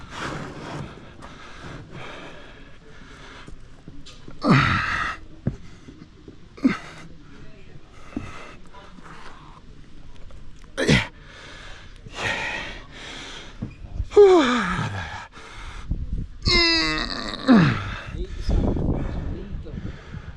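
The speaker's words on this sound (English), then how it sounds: "Yeah, and the deep breathing." A bricklayer breathes heavily with sharp snorts, gasps and strained exhalations while lifting heavy bricks, close to the microphone, between spoken remarks and scattered knocks of handling.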